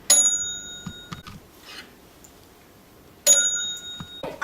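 A small bell gives a bright ring at the start of a school magic show trick, then rings again a few seconds later, with faint noises in between.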